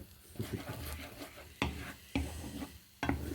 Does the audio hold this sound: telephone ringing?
no